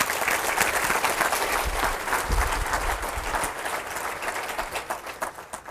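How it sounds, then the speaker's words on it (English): A room full of people clapping after a talk at a free email marketing and Facebook ads training seminar, loud and continuous, thinning into more distinct individual claps toward the end. "Round of applause for Jay"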